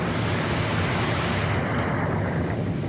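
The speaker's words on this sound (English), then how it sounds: "a recording of that wind, 123 kilometers an hour for 2 hours," Strong wind gusting at about 123 km/h batters the microphone outdoors in blowing snow, a loud, continuous roaring rush with no break or voices.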